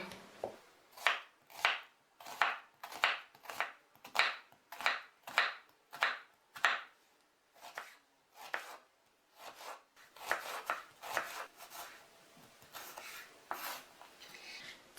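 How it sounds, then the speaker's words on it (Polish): A knife dices red onion on a board with quick, regular chops, about fifteen sharp knocks at a steady rhythm, then a looser, softer run of cuts, close and clear with no talking. "Teraz ją posiekam na kostkę."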